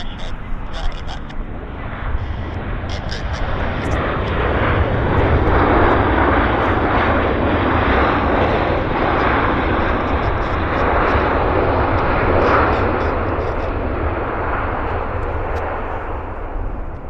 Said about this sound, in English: A lot of reverse thrust.